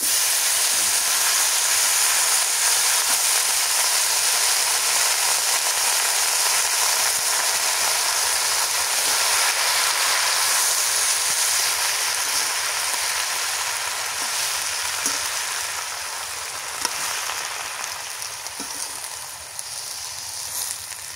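Greens frying in a pan with garlic and chili, giving a loud, steady hiss of steam and sizzle that holds for about twenty seconds and fades a little toward the end, with a few faint clicks.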